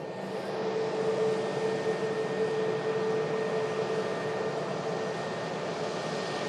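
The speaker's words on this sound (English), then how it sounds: "Fairly long takeoff from the Dreamliner there." A Boeing 787 Dreamliner makes a long takeoff at Manchester Airport: a steady, broad jet roar heard from a distance that holds nearly constant throughout.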